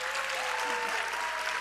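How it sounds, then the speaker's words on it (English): Applause after a dance performance, a continuous, even roar of many hands clapping in a large hall, with a faint voice or tone beneath it. "Let us offer them a warm and well-deserved round of applause."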